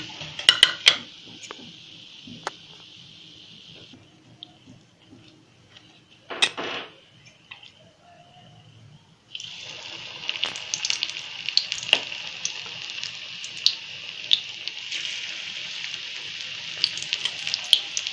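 Spinach pakoda batter dropped into hot oil, frying in a steady bright sizzle with occasional utensil clinks, the sizzle dipping briefly midway before rising again louder and continuing.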